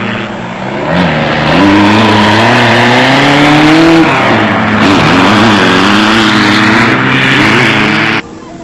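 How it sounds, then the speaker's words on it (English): Off-road rally cars racing in the Roof of Africa event in Lesotho, loud close engines revving and climbing in pitch as they pass, sustained and roaring before cutting off sharply near the end. "The cars provided plenty of early morning entertainment for young locals, with John Lambert and Hendrik Fourie"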